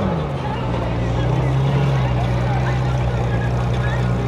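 A matte black Lamborghini SVJ at a Florida car show sends out a loud, steady exhaust roar with a slight pitch drop near the start, and crowd chatter sits underneath.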